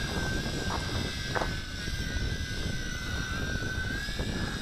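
A Tarantula X6 drone flies outdoors in breezy wind, giving a steady high-pitched whine with a sustained tone that holds evenly over constant wind rumble.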